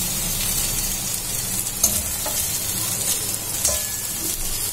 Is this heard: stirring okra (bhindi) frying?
yes